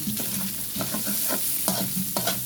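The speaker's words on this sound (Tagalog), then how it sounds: "ilalagay na natin ang ating onion. Ano Igisa lang muna natin ang ilang ilang na." Onion sautéing in a pan for sotanghon guisado, a steady sizzle broken by repeated scraping strokes of a spatula stirring the pieces, close and fairly loud with no talking.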